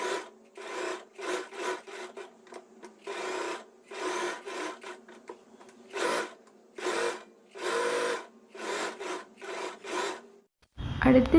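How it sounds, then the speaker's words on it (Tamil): A sewing machine stitches a blouse's main fabric and lining together along the edge in repeated short whirring bursts with brief pauses between, close and clear. "இந்த ரெண்டு சைடு பீஸும் வந்து நம்ம இந்த மெயின் ஃபேப்ரிக் அண்ட் லைனிங் ரெண்டுத்தையும் ஒன்றா வச்சு ஓரத்துலேயே வந்து ஃபுல்லாக ஸ்டிச் பண்ணிக்கலாம்."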